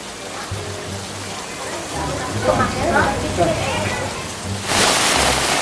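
Heavy rain pours down in a steady, hissing wash that swells in intensity partway through, with voices talking faintly underneath.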